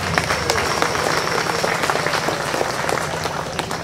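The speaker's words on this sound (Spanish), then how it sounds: "¡Fuerte el aplauso!" Loud, dense crowd applause at a municipal ceremony in San Carlos, marking the handover of a solid-waste collection vehicle, continuous clapping throughout at close range.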